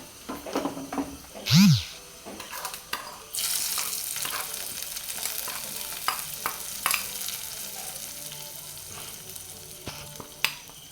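Hot tempering of curry leaves, dried red chillies and shallots poured into a dried prawn theeyal curry, a sudden broadband sizzle bursting in and hissing steadily to the end, with scattered spatters and clinks.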